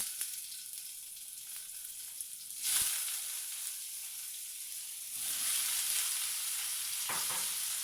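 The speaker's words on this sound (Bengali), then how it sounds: "একটু ভাজা ভাজা করে নেব" Paneer frying in hot oil: a continuous close sizzle that swells louder partway through, with occasional clinks and stirring sounds.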